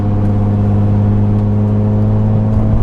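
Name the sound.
Nissan 370Z Nismo engine and exhaust accelerating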